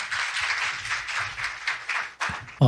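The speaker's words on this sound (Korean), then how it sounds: "여러분 박수 부탁드릴게요" A forum audience at a digital asset investment event claps in a rhythmic, pulsing burst, moderately loud and fairly close, with the beats staying even throughout.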